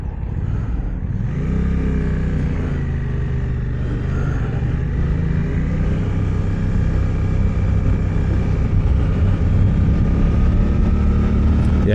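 Engine of a Suzuki GSX 8R motorcycle on the move, a steady loud drone with rising revs under wind rush, heard from the rider's position throughout.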